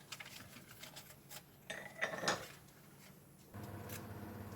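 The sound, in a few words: beating an egg with salt and pepper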